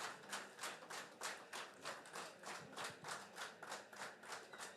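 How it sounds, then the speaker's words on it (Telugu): An audience applauding together in a hall, a steady run of rhythmic clapping with regular pulses about every third of a second, fairly faint and distant, with no talk over it. "గట్టిగా క్లాప్స్ కొట్టండి సార్"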